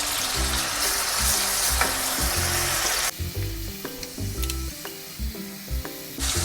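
Masala for beef kofta fries in a hot pan, a dense, steady sizzle with occasional stirring scrapes; the hiss is loud at first, then drops abruptly to a quieter crackle partway through.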